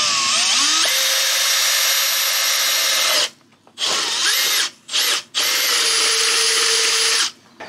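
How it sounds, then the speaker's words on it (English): A power drill whines loudly at high speed, stops, then runs in several shorter bursts before one long final run, close and piercing. "So we need to drill a hole."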